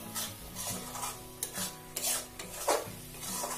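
Masala cooks in oil in a pan and is stirred with rhythmic scraping and rubbing strokes over a soft sizzle, with a brief louder hiss partway through and no voices.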